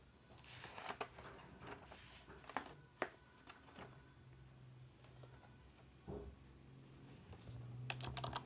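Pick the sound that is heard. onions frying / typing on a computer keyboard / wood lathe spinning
typing on a computer keyboard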